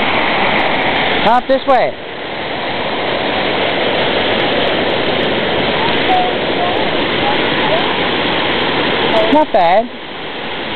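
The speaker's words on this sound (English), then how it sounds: "You can go right up to the top of the falls here." A loud, steady roar of a waterfall above a swimming hole at Sweet Bay, Newfoundland, fills the scene from close range, with someone speaking briefly over it at the start and near the end.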